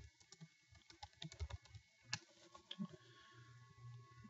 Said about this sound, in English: So we'll type cotton sweatshirts into Google search.